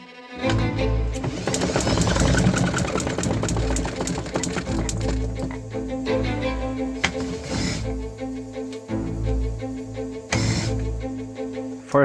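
A homemade 3D-printed engine fitted with a fuel injection system fires on its test run. It gives a rapid, rattling mechanical chatter that starts up, runs unevenly with surges and dropouts, then stutters.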